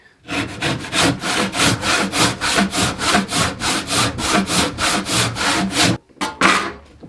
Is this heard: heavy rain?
no